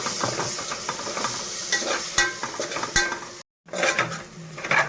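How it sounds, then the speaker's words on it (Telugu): Tomato pieces cooking in a pan with turmeric and chili powder, giving a steady close sizzle with scraping stirs and light utensil clinks throughout, broken by one brief silent gap. "ఇందులోనే టమాటా ముక్కలు కూడా వేసి మగ్గించుకుందాం బాగానే."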